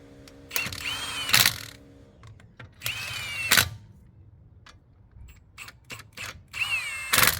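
A power tool gun on a low setting during alternator work on a Nissan Qashqai, giving short whirring bursts of a few rising pulses each, close and fairly loud, separated by clicks and quiet gaps.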